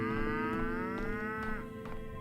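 Cow in Pathologic 3 lowing in a long, drawn-out moo that sustains for about two seconds, close and clear, with faint clicks behind it and no speech.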